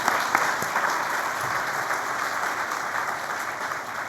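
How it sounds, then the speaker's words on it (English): Steady, even round of audience applause for workshop presenters at a diversity and inclusion conference keynote, dense clapping from a sizable crowd lasting several seconds at moderate volume. "Let's give them a round of applause."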